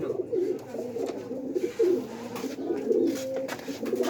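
Pigeon cooing nearby, a pigeon eager to pair, repeated soft throaty coos in a steady rhythm with light background noise.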